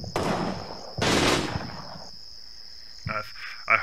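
Enemy soldiers return fire in the video game Combat Mission Red Thunder, with two dense bursts of gunfire near the start, then quieter sharp shots and a steady high electronic tone.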